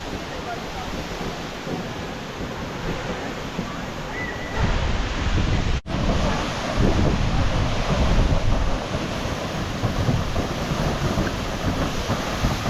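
A waterfall near a trailhead rushes in a steady, loud roar of falling water, continuous throughout with a brief dip midway as the sound swells slightly louder.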